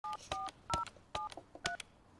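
A number is dialed on a home telephone keypad: about six quick two-tone beeps in an uneven rhythm, each short and clear, with small clicks between them and no voices.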